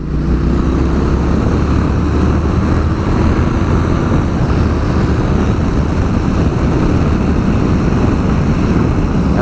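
A Triumph Speed Twin motorcycle pulls out to overtake on an open road, its engine droning loud and steady with heavy wind rush throughout.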